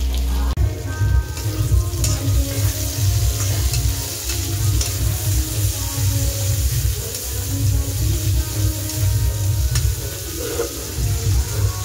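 Cauliflower, potato, onion and chili fry in a pan with a loud, continuous crackling sizzle and frequent scraping stirs, close and steady with no talk.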